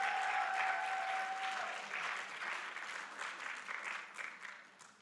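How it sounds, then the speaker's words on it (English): Sustained audience applause at an AIUM Annual Convention research day, dense clapping that holds steady then thins and fades slightly toward the end, with a faint steady tone briefly audible early on. "So let's give sonography and Professor Lee a round of applause."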